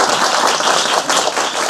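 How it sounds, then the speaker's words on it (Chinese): An audience at a science-history salon lecture breaks into dense, loud applause welcoming a speaker, with continuous clapping throughout. "那请老师来跟我们介绍今天这个第一场的这个科学史的内容。"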